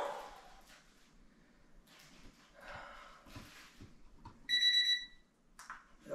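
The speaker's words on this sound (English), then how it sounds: "And I highly recommend using a timer." A timer alarm going off during a home exercise routine: a brief, shrill electronic beeping burst near the end, heard over faint room noise and movement.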